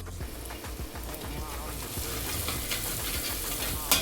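Chilli powder fries in hot oil with a steady sizzle while a spoon stirs and scrapes through it in repeated strokes, close and continuous, ending with a brief sharper clink.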